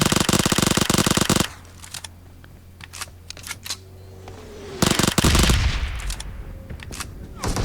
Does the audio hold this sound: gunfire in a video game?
yes